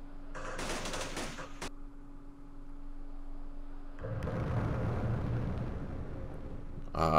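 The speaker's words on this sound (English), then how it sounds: "Airstrike coming in." Airstrike explosions and gunfire from the Vietnam war strategy game Campaign Series Vietnam: a loud burst of rapid shots, then a sustained heavy roar of blasts and rumble that continues steadily to the end.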